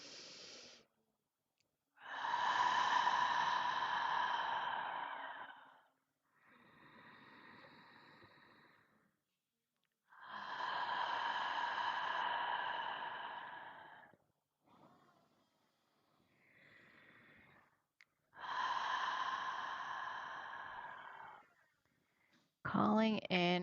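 Slow deep breathing, several long inhales and exhales separated by quiet pauses, close and soft, with a faint breathy voice between breaths.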